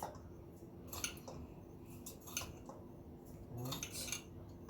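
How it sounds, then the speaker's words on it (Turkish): A milk pudding mixture of starch, flour and sugar is whisked in a pot, giving quiet repeated metallic clinks and light scraping strokes close by, with no talking. "Güzelce çırptım muhallebi malzemelerimi."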